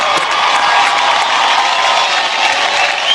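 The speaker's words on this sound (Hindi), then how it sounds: "तो आज की शाम की शुरुआत करते हैं आपकी जोरदार तालियों के साथ।" Dense, steady applause from a large audience at a televised awards show in Mumbai, a continuous wash of clapping with faint cheering, loud and sustained throughout.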